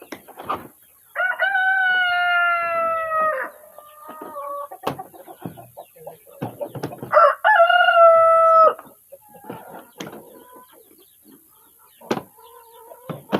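Chickens and young chicks on a village farm: a rooster crows loudly twice in long drawn calls, with scattered clucks and soft peeping between, close by and without talk.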